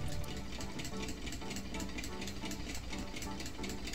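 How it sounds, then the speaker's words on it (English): A small toy electric piston motor running on 12 volts DC, with two alternating coils pulling the piston back and forth, gives a steady, even mechanical clatter and whir heard up close for the whole stretch. "The motor runs on 12 volts DC. It runs very smoothly."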